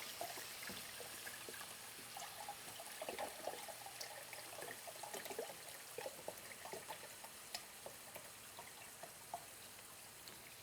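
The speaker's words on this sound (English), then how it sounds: "pour out a little more of the chicken broth" Chicken broth poured into a soup pot, a quiet, steady trickle of liquid with small splashes running continuously, no voices.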